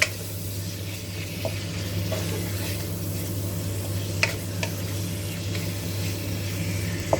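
Crispy pork belly being stir-fried in a pan, a steady sizzle and crackle with a constant low burner hum, stirring scrapes and occasional sharp pops of splitting skin, close and without talk.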